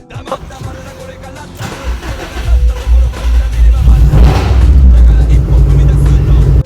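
A car engine cranks and catches, then settles into a loud, deep rumble that swells as it revs, close by.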